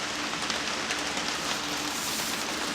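Steady rain falls outdoors during tornado weather, a dense, even hiss of drops hitting surfaces that carries on without a break for a few seconds, close and constant with no speech.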